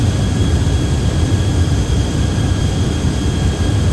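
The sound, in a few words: Boeing 737NG jet engines at climb thrust, Prepar3D flight simulator game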